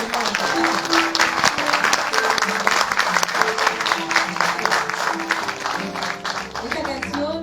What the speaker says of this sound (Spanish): Le pueden aplaudir para que venga